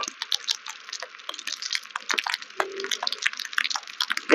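Rain on a midnight ride through empty Mumbai streets, a busy, uneven patter of drops and drips close by, steady across the clip.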